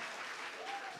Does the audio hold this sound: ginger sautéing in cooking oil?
no